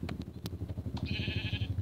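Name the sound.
sheep bleating in the video game Minecraft Pocket Edition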